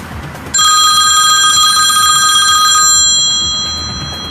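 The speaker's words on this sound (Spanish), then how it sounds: "Y de golpe suena el teléfono de Nico y cambia completamente la historia." A mobile phone rings loudly with a bright, steady electronic ring tone that starts abruptly, holds for a couple of seconds, then fades out, with no talking over it.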